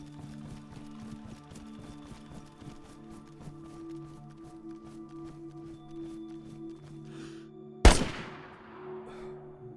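A single sharp gunshot cracks through a house floor in the video game DayZ, one loud burst late in the stretch, following quieter ambient game sounds and soft steps.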